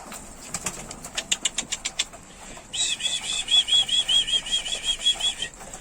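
Pigeons in a balcony loft give a burst of rapid wing flaps, then a close, steady warbling coo repeats for several seconds, with no talking.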